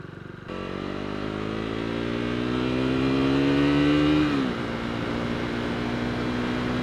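Motorcycle ridden hard, its engine note climbing steadily in a long rising rev before dropping sharply, then settling into a steady drone; loud and close with no talking.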